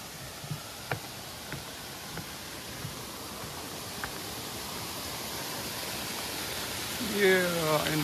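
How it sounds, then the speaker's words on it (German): A waterfall at the end of a stream gives off a steady, broad rushing hiss, faint and continuous, with a few soft ticks early on and a brief swell of other noise near the end. "Yeah, ein Wasserfall."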